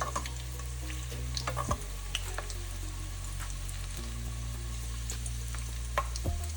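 Pressed plantain slices fry in a generous amount of oil in a pan rather than a deep fryer, making a continuous close bubbling sizzle with a low steady hum beneath and a few sharp clinks of a utensil.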